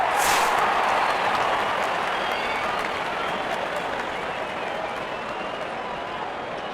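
Cricket crowd applauding during a factory tournament match between RCB and PC, a broad, steady wash of clapping and crowd noise that stays loud throughout, tailing off slightly toward the end.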